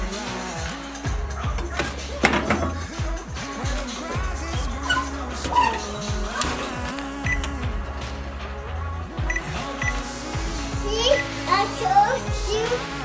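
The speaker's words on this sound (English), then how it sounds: "Sorry about the noise, my kids are inside here." Children chatter and play in the background, with high voices, squeals and clatter at a moderate distance. Steady, busy household noise.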